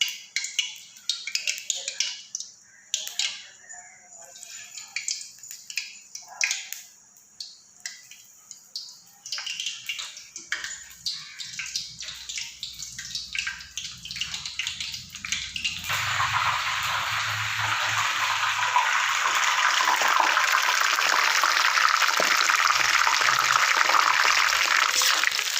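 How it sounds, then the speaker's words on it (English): Soya meat coated in batter deep frying in hot oil, at first sparse crackles and pops with handling noises, then a loud, steady broadband sizzle filling the second half. "Now I am going to dip the soya meat in the batter and deep fry"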